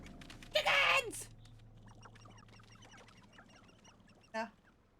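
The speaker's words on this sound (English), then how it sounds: "Chickens!" Chickens in a wizarding video game let out a loud squawking cluck, followed by a few fainter clucks and a second short squawk near the end, with soft ambient game sounds in between.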